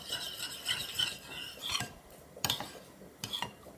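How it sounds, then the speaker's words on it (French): Cream spooned into a dish, two tablespoons: soft scraping and clinking of a spoon against the dish, with a few sharper taps near the end, close and quiet. "je mets 2 belles cuillères à soupe de crème"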